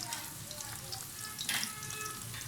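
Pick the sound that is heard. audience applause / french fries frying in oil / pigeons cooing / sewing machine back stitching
french fries frying in oil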